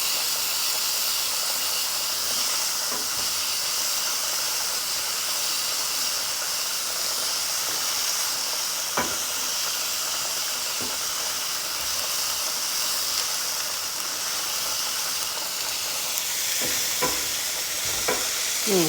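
Ground meat with garlic and vegetables for spaghetti sizzles steadily in a pan, a constant hiss of frying broken by occasional utensil scrapes as it is stirred.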